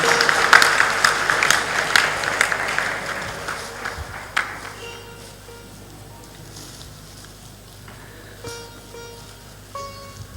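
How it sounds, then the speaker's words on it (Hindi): An audience bursts into loud applause at a spiritual talk, strong clapping for about four seconds before fading into quieter room sounds and scattered noises. "जोरदार ताली बजा दो।"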